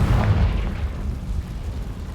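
A fiery Confringo spell explosion in the Hogwarts Legacy game: a deep, loud boom at the start that decays into a low rumbling tail.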